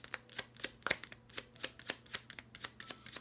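Oracle cards being shuffled by hand make a run of quiet, crisp riffling clicks and soft slaps in an uneven but steady rhythm, close and fairly faint, with no talking.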